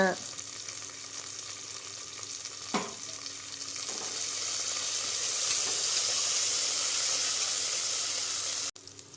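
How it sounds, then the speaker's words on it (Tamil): Mint, coriander and curry leaves sizzle and fry in hot oil in a pan for mushroom biryani, a loud continuous crackle that swells midway, with a brief stirring clink. "கட் பண்ணி எடுத்து வச்சிருக்கிற புதினா, கொத்தமல்லி தழை, கருவேப்பிலை போட்டு நல்லா வணக்கி விடுங்க."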